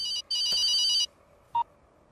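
A telephone rings: a sharp electronic ring burst, briefly broken, lasting about a second, then a short single beep after a pause, close and clear with no voices.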